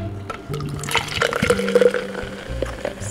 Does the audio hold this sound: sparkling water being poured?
yes